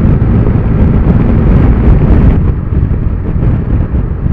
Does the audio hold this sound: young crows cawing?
no